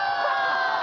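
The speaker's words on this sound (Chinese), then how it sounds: "尖叫声！" A television variety show audience screams and cheers in a brief, loud burst of high-pitched crowd noise lasting under a second.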